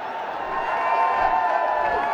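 Cricket supporters at a Bangladesh Premier League T20 match cheering a boundary, a sustained roar of crowd cheering and whistling at steady loudness from a distance.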